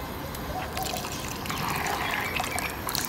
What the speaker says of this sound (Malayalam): ഒന്നാം പാൽ ഇങ്ങനെ ഒഴിക്കുക നന്നായി ഇളക്കി കൊടുക്കണം